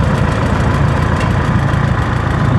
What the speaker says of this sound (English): But I am just really enjoying driving my tractor here